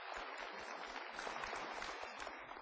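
Studio audience applauding at a television talk show, a faint, dense wash of clapping with no voices.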